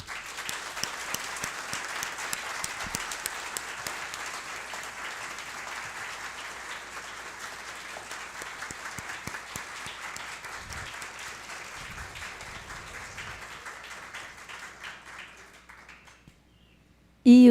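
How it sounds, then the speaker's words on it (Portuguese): A crowd at a solemn session honoring journalists of Espírito Santo claps in a long, even round of applause that fades out over about sixteen seconds, with some individual sharp claps standing out. "pedindo a todos um esplêndido aplauso aos jornalistas do Espírito Santo"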